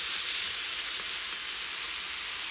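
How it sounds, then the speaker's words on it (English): A salmon fillet sizzling skin side down in a hot pan, a steady, even hiss of frying that holds without a break, moderately quiet and alone. "now we flip the fish onto the skin side down"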